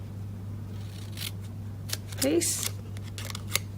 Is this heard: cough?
no